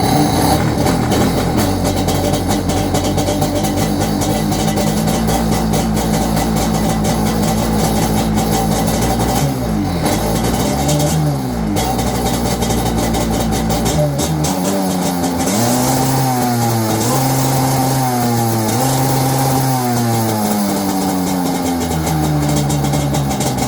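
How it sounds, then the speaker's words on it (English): A jet ski engine with stock exhaust cold-starts on the choke, catching and running loud and close, then revving up and down in repeated pulls with a rough, buzzing exhaust note. "that is what our stock exhaust sounds like"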